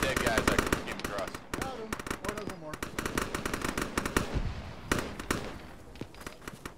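Gunfire from the Arma military shooter game during a night operation rattles out in rapid bursts and single cracks, loud and close, with overlapping shots while players talk over the radio.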